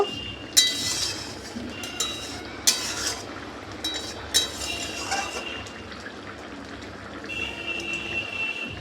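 Mango and fish curry being stirred in a pan, with a few sharp utensil clinks against the metal at irregular intervals over a soft bubbling simmer, close and moderately quiet.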